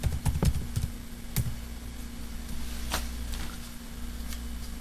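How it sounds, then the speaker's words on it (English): Fingers tap on a computer keyboard in a few quick bursts of clicky keystrokes, then sparser single key presses over a low steady hum; close and moderately loud, no talking. "So now you type VASPKIT."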